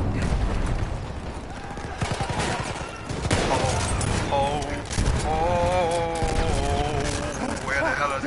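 Rapid rifle fire and booming explosions from the World War I shooter Battlefield 1 clatter continuously at close range, with bursts of shots layered over heavy blasts and a rising whistling tone near the end.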